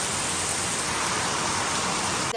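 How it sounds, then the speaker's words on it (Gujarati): Heavy monsoon downpour in Mehsana, a dense, steady roar of rain hitting surfaces, loud and continuous without a break and with no voices. "મહેસાણામાં ભયંકર વરસાદ ચાલુ થઈ ગયો છે"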